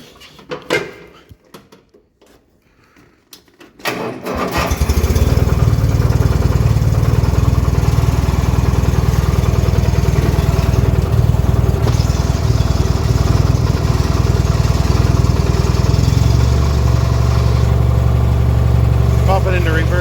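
A custom Craftsman lawn mower engine cranks with a few clicks and clunks, catches around four seconds in, and then runs steadily and loudly at close range with a constant drone until the end.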